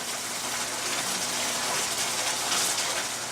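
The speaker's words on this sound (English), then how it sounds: "This is really bubbling up a storm." Sizzling, bubbling liquid from a baked spinach, artichoke and butternut squash casserole cooking in a pan, a steady dense hiss with soft popping throughout, close and moderately loud, with no talk.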